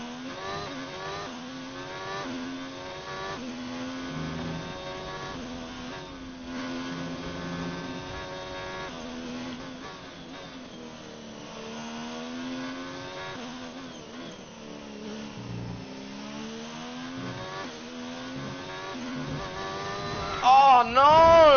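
Ferrari Formula 1 car in the racing game F1 2019 at the China circuit, its engine holding a steady high whine that rises and falls through gear changes across a lap, continuous and up front.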